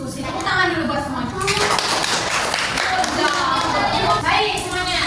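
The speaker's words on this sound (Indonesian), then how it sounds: "Tepuk tangan dulu buat semuanya." Students applaud together in a classroom, a dense, sustained patter of many hands clapping at close range, with children's voices mixed in throughout.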